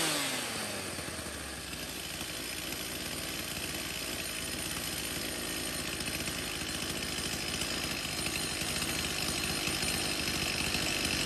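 A STIHL 024 AV Super chainsaw is yanked into life and then runs steadily at a loud, continuous buzz, its engine tone holding rough and even for the remaining seconds.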